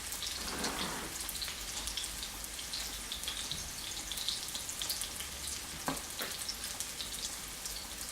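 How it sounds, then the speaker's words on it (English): Steady crackling sizzle of pea and ricotta fritter batter frying in hot oil in a pan, a dense hiss with scattered pops, close and continuous without any talking. "And you just keep on frying them up like that."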